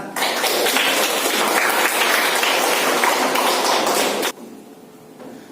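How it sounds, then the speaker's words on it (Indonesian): A class of seventh-grade pupils claps together in a lively burst of applause that holds steady for about four seconds, then stops abruptly, leaving a quieter room. "Masya Allah, tepuk tangan."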